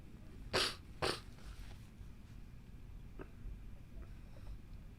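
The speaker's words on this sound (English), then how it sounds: "Gonna blow my nose" A person blows their nose in two short, forceful bursts close by, followed by quiet room noise.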